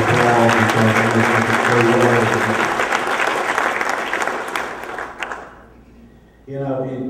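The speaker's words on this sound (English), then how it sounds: "So just give yourselves a big round of applause" A gala audience at a Boys and Girls Club fundraiser bursts into loud, dense applause while someone speaks over it. The clapping thins out and fades to near quiet, then his talking resumes.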